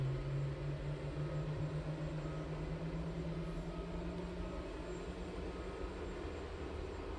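Aircraft engines spin up at night at East Midlands Airport, a steady, distant low drone with a faint droning tone that holds and then fades into the broad rumble, no voices.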